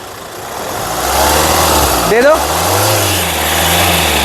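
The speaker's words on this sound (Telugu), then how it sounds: "ఇంజన్ యొక్క నాయిస్ పర్ఫెక్ట్గా ఉంది" A 2016 Hyundai Creta SX Plus AMT engine hums close by and revs up and down, with a brief spoken word heard over the engine noise.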